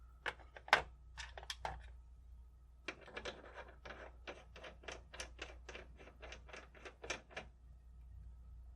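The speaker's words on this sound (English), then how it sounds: "Then I'll run the press." A reloading press sizing pistol cartridge cases, with a series of sharp metallic clicks and clacks in irregular bursts, close and crisp against a quiet background.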